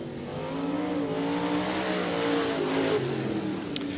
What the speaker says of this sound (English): Final group of Iron Giant Street Stocks out on the racetrack